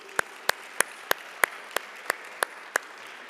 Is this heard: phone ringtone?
no